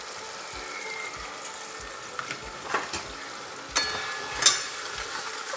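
Masala with turmeric and salt frying in a pan for mutton keema: a quiet, steady sizzle broken by a few sharp spoon scrapes and clinks, with no talk.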